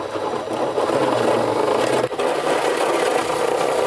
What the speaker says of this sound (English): we're going to go ahead and use a stepping bit